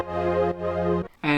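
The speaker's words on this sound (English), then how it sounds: "So this sound is made up of 2 pads, a saw pad and an 80s brass patch." A synth chord made from a saw pad layered with an 80s brass patch sounds in sustained, bright stabs, two held chords then a short gap before another starts, with no voices.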